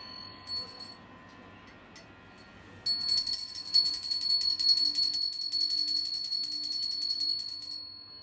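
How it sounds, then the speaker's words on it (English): A sacred bell is rung once to open a ritual, its bright, sustained ringing tone lingering for several seconds before fading, after a quiet stretch with no talk. "I open this ritual with this sacred bell"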